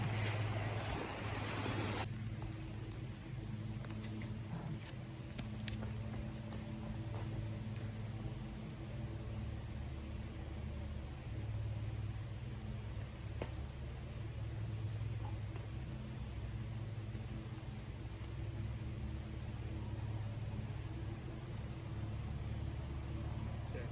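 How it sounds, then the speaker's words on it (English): A Kia car drives along a potholed back road in Hawaii, with a continuous loud rumble of road and engine noise plus buffeting wind that carries on steadily throughout, marked by occasional faint knocks. "Just driving down this back road in a Kia with so many potholes."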